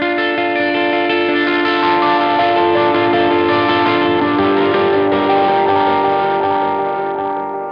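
An electric guitar plays a clean tone with delay and no blues pedal. Rich sustained chords ring continuously and the repeats blur into a steady wash before fading slightly at the end.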